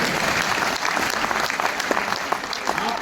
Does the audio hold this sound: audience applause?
yes